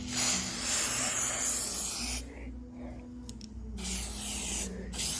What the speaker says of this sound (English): I put a little bit of silicone spray in the channels.